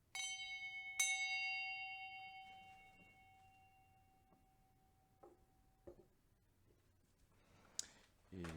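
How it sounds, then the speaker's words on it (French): A large bell rings out to ward off unwanted spirits, one clear strike followed by a second that hangs and slowly decays, then quieter clicks and small knocks in a hushed room. "Sonnez ma grande cloche pour éloigner les esprits qui ne sont pas souhaités présentement."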